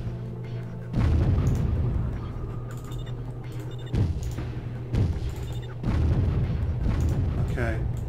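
Heavy booming artillery fire in the video game Warzone 2100 thuds repeatedly over a continuous low rumble, with several distinct blasts spaced a second or so apart.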